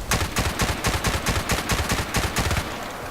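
Assault rifle tap-fired in the video game Battlefield Play4Free, a fast string of sharp, loud bursts of a few shots each, evenly spaced and close, no voices over them.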